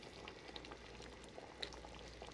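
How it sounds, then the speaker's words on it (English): Boiling water goes into a simmering meat and tomato sauce, producing a faint, steady bubbling hiss with small crackles, quiet and close. "I'm going to just add on boiling water to this."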